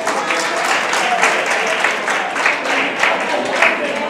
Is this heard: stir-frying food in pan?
no